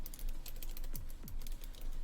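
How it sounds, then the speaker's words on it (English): Rapid keystrokes on a computer keyboard as networking commands are entered, close and steady, with faint clicks in quick succession and no voice. "Then we're going to type in switch port"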